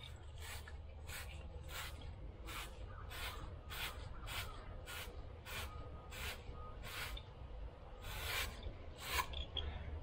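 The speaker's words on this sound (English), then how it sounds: "So now we use our 3/4 inch brush like that." A 3/4 inch brush scrubs the inside of a pipe fitting on a water heater in a series of quick, faint scratchy strokes, roughly a dozen evenly spaced passes with a low background rumble.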